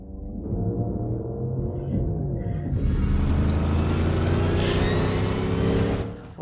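Deep, steady engine rumble of the Batmobile, an American muscle car in The Batman, growling loud and close with a swell in revs partway through, running continuously without talk.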